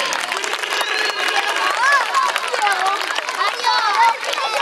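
Schoolchildren at a school prize-giving in Tudela applaud a prize winner. Close, steady clapping runs beneath loud, excited children's voices and cheers from the crowd throughout.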